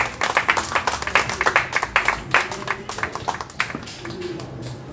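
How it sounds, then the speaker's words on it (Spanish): A church congregation claps loudly for Jesus during a sermon, a dense, close burst of many hands with sharp, rhythmic beats that trail off toward the end. "Denle un aplauso fuerte"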